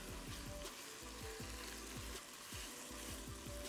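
Sauce sizzles hard in a hot wok as it is stirred and an ingredient goes in, with a close, continuous fry broken by quick, repeated scraping strokes of the utensil.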